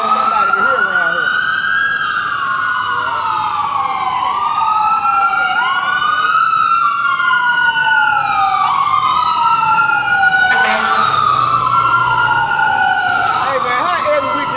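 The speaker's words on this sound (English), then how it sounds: "Hey man, how every weekend a fire truck come through here?" A fire truck siren wails loudly past on a Memphis street, its rising and falling sweeps close and continuous with an engine rumble beneath.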